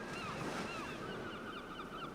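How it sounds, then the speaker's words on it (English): Steady rushing ocean surf and wind in rough waters where the Columbia River meets the Pacific, a continuous roar with gusting noise, recorded near and fairly loud, with no talking. "students are at the mercy of waves that can kill"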